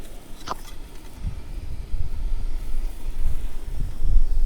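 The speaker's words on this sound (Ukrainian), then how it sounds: "На дворі вітряна погода, довго закипає чайничок." Steady wind rumbles and buffets the microphone outdoors, with low gusty roaring that swells and fades throughout.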